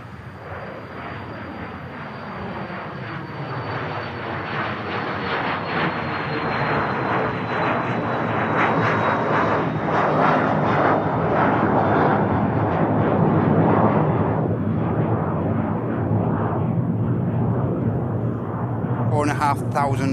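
A business jet takes off from Manchester Airport and climbs steeply, a loud swelling roar with a thin descending whine that builds, holds, then fades into a distant rumble, with a person talking over it.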